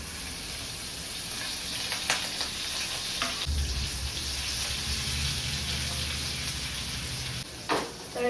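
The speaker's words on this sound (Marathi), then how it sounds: "तेल पण गरम होते. त्याच्यात आपण आता मिरची टाकू वाटलेली." Ground green chilies fry in hot oil, giving a steady, close hiss and sizzle with occasional stirring scrapes throughout.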